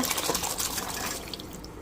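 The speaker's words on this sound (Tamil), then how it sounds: "வேக வச்ச சுண்டலை சேர்த்துக்கலாம் தண்ணியோடையே சேர்த்துக்கோங்க" Boiled chickpeas poured into a pan along with their cooking water over masala, a brief close wet splashing and pouring that trickles and fades, no talking.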